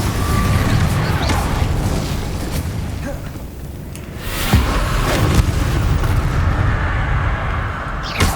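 Repeated Incendio fire spells in Hogwarts Legacy burst out as loud booms and whooshing blasts over a constant rumbling backdrop, with a sharp hit near the middle and another near the end.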